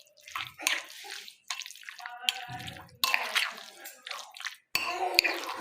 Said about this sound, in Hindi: चिकन को अच्छे से करेंगे हम मिक्स इन मसालों में।